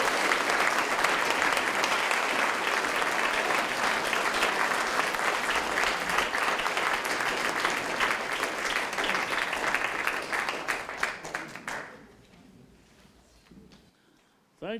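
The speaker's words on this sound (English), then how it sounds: "give Jerry a big, warm round of applause" Loud, sustained applause from a large crowd, steady clapping that fades out near the end, followed by a brief quiet moment.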